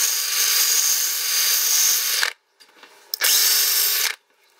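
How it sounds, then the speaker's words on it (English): A drill fitted with a small grinding disc whines harshly against metal rod in two bursts, a long one and then a shorter one, with brief quiet between them. "I have a drill with a little disc in it."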